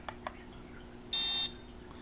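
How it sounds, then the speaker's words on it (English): A single steady electronic beep from a network cable tester, fairly loud and close, sounds for about a third of a second amid quiet background hum and a couple of faint clicks. "That beep, and it says it passed"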